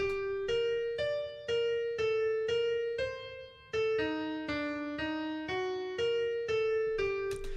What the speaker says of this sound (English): Now it's harmonic. Now it's a harmonic minor scale.